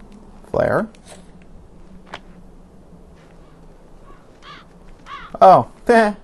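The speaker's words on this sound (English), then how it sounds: "Birds." In the video game ZombiU, crows give several harsh caws, one loud call early and a louder cluster near the end, over a low steady game hum.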